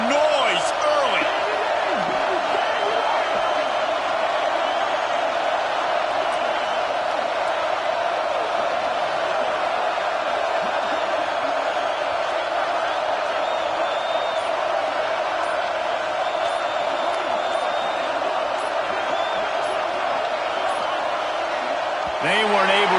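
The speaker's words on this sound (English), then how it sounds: "This crowd bringing the energy and noise early." A football game crowd cheering and roaring: a dense, loud, unbroken wall of stadium noise that holds steady for over twenty seconds, with a commentator talking over it.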